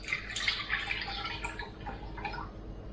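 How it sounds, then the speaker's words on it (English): Fresh milk pours into a bowl while a sweet peach-topped dessert is being made, a steady close splashing trickle running the whole time with a few brighter gurgles and no talk. "we're gonna pour our milk in a bowl"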